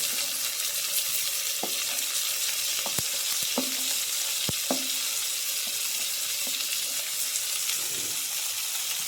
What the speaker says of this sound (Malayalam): അതേ എണ്ണയിലേക്ക് ഒരു 2 വെളുത്തുള്ളിയും ഒരു ചെറിയ ഇഞ്ചിയും ചേർത്തത്, ഒരു 10 ചെറിയ ഉള്ളി ചേർത്ത്